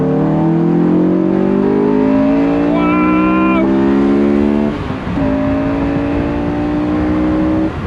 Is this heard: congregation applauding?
no